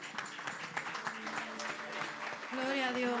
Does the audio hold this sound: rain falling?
no